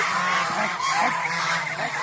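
Geese honk on a goose farm, a dense, loud, overlapping flock chorus that runs without pause.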